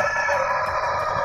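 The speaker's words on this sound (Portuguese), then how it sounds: "por isso vocês vão escutar galo cantando, galinha, tudo no mundo aqui" A rooster crows on a small rural farm, loud and sustained across the whole moment over a steady background, with no talking.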